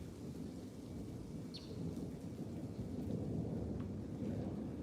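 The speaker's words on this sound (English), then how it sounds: "Thunder rolling." Continuous low rumbling thunder rolls through a thunderstorm in the Arizona desert, a steady deep roar swelling slightly louder midway and mixed with soft rain hiss, with no voices.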